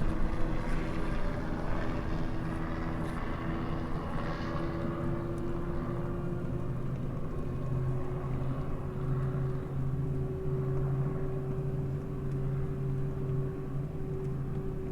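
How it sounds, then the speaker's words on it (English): Steady low mechanical drone with sustained engine and rotor-like hum, continuous and fairly loud, a helicopter passing overhead amid road noise from a vehicle moving slowly at the Old Chain of Rocks Bridge. "Got a helicopter going by overhead."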